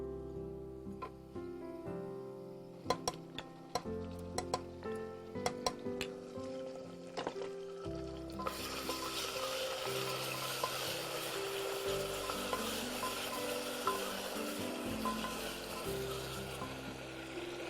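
Onions sizzle steadily in hot oil as ginger garlic paste goes in, with a spoon scraping and clinking against the pan before the frying swells into a loud, continuous hiss.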